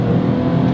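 A Honda Acty kei mini truck accelerating on a country road, its small engine and exhaust giving a steady, loud, close drone for under a second with no talk over it.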